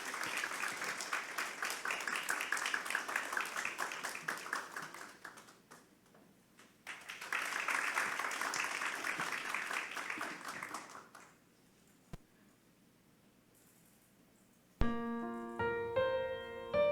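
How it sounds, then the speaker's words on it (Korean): Warm applause from a congregation welcoming a singer for a special hymn at a Korean church's Friday evening worship service. The clapping is sustained for about ten seconds, then fades to quiet before music begins. "나올 때 큰 박수로 축복하겠습니다."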